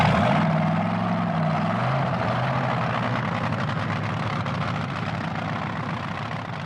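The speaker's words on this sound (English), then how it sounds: "The engine in Jeb Allen's dragster comes to life" Engine of a 1980 Top Fuel dragster at an NHRA drag race firing up, a loud rising mechanical roar that settles into a steady, dense drone with no talk.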